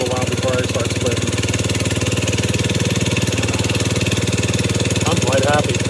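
Small engine on a homemade hydraulic firewood log splitter runs steadily at idle, a close, loud, even chugging drone with rapid regular firing pulses, while a person talks briefly over it.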